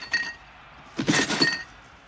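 Broken glass clinks and rattles inside a package as it is handled: two short bursts of bright tinkling, the second longer and louder, close by with no talk.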